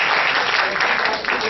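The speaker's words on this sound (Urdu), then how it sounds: "آپ ایک مرتبہ تالیوں سے خیر مقدم کیجیے" An audience at a mushaira in Delhi breaks into loud, dense applause welcoming a poet, a continuous wash of clapping close up with no pauses.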